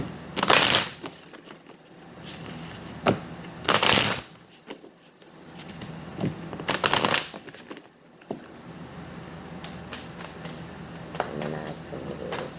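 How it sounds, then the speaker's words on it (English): A tarot deck being shuffled in a few distinct bursts of crisp riffling and card flutter, separated by quieter pauses with soft handling noise, close and fairly loud with no talking. "3 more shuffles"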